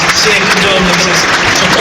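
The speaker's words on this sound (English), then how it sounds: "A round of applause will end on the referee's whistle." Football stadium crowd at Burnley versus Luton Town applauding in tribute before kickoff, a dense, loud, continuous roar of clapping from a large crowd that holds steady throughout.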